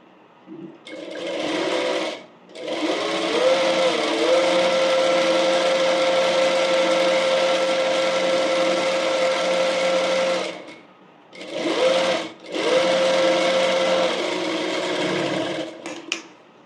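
A sewing machine stitches the folded cross piece of a girl's umbrella frock in three bursts, a long loud whirring run followed by two shorter ones separated by brief pauses.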